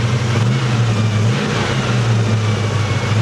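A car engine runs steady and loud close by, its deep exhaust note rumbling and surging slightly in a short burst of revving with no talk over it.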